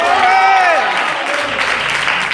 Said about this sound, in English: somebody ought to clap your hands and shout glory tonight